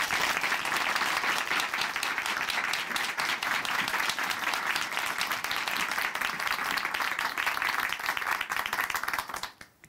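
Sustained, loud audience applause fills a church hall to welcome a woman giving a testimony on a Korean Christian program, steady clapping for nearly ten seconds before tapering off abruptly at the end.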